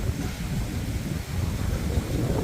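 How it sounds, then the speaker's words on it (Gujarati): Strong wind gusts across an open millet field, a steady, loud, low rumble of wind buffeting the microphone throughout with no talking. "પવન એટલો થઈ ગયો છે."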